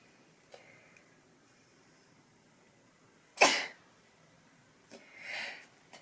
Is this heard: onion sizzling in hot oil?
no